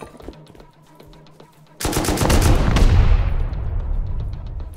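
Loud automatic gunfire erupts abruptly in the video game Rust, a dense rapid burst of shots that keeps rattling and slowly trails off, with no voices.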